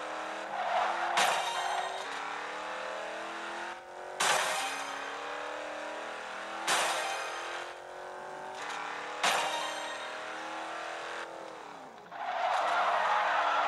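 Porsche 918 Spyder in the racing game Rebel Racing, its engine roaring loud and close with repeated sharp gear-shift surges and revving pulses, plus brief tire squeals, no talking.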